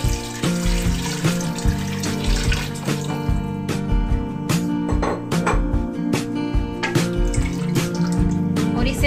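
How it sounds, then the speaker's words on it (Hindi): Three cups of water being poured into a cooking pot while making beef yakhni pulao, a steady splashing pour with clinking of the pot, fairly close and loud throughout. "अब हम साथ में इसके ये 3 कप जो पानी था वो ऐड कर देंगे।"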